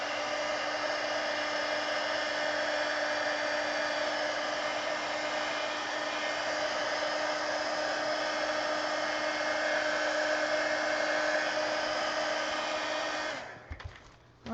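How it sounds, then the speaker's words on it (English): A heat gun blows a steady, loud whooshing hum while drying paint on a coloring page, running continuously without pause before switching off near the end with a few handling clicks. "I'm going to get my heat gun here and just dry this."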